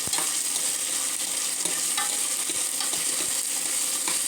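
Soaked dried peas tossed into a hot frying pan and stirred, a continuous bright sizzle with scraping spoon strokes and small clicks, close and fairly loud, no voices.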